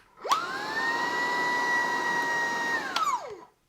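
A Dreame R20 cordless stick vacuum cleaner switches on with a rising whine, holds a steady high motor hum for about two and a half seconds, then winds down and stops, heard alone.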